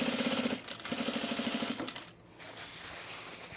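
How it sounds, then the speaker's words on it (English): Sewing machine stitching into the side seam allowance of a men's utility jacket, fast rhythmic needle chatter in two short bursts with a pause between, then a quieter hum as it stops. "So I'm just stitching this into the side seam allowance here."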